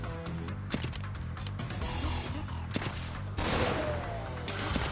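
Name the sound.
projectiles exploding in video game Give Up 2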